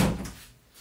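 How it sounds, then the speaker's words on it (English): A door swings open with a short, fairly loud thunk followed by a fading rumble, heard alone indoors. "Lenny, stop opening the door, honey."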